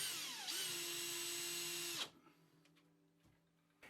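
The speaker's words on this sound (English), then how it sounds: "press it down with your hands and drive a couple of screws in the top and bottom" A power drill drives a screw into a wood slat panel in one continuous whining burst of about two seconds that rises in pitch, then stops, followed by quiet handling knocks.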